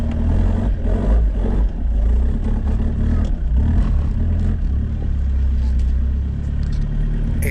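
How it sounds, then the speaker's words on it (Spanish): A 4x4 off-road trial vehicle, a Nissan, Mitsubishi or Toyota, climbs a loose slope in second gear low range, nearly stalling, its engine a loud steady low-rev drone with rattling clatter, continuous and close. "Estáis escuchando el ruido del motor."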